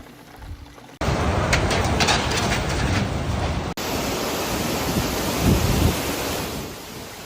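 Thunderstorm under a tornado warning in suburban Nashville, a loud wash of heavy rain and wind with low rumbling, opening with a quieter patch before abrupt cuts to the full roar, no voices.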